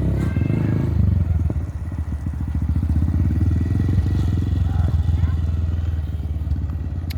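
Motorcycle engine in the dark during a total beginner's wheelie attempt after two months of riding, a steady mid-pitched idle and light throttle rumble running the whole time, fairly close, with no strong revving burst.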